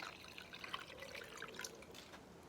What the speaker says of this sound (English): So now I'm going to pour water, and we are going to observe what happens